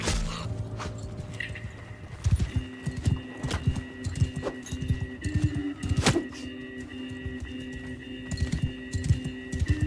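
Hooves of a horse in Mount & Blade II: Bannerlord clop in a steady, rapid rhythm close by, a run of thudding beats lasting throughout, with game ambience underneath.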